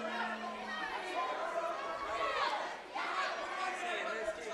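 Pro wrestling crowd at a PPW High Voltage show reacting to a wrestler in an indoor venue: a dense, steady wash of chatter and shouts that swells, dips briefly, then rises again.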